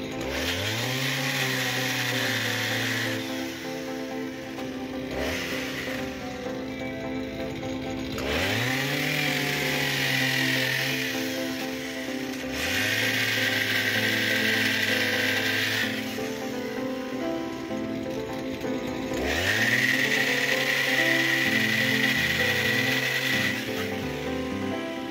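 A chainsaw cuts a fallen tree into pieces, its engine repeatedly revving into loud strained cuts and dropping back to idle between them, four cutting bursts close by; no talking.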